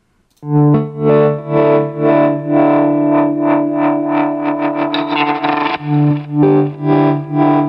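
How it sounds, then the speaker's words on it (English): Electric guitar heavily processed with effects, sustained distorted chords swelling and pulsing in a steady rhythm, loud and close with no voices. "you can hear how interesting I got the background guitar to sound"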